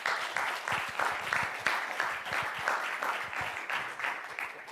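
Audience applause at a panel event on race and rights in Europe, steady dense clapping from a crowd lasting several seconds at moderate level, with no talking.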